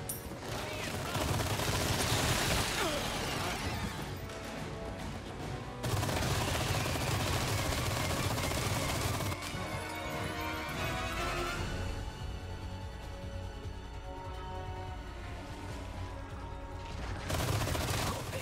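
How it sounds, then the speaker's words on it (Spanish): Loud automatic machine gun fire rattles in Resident Evil 4 Remake, long sustained bursts broken by short gaps, heavy and close with clanking mechanical noise throughout. "Lo que puedo hacer es usar una ametralladora contra ellos"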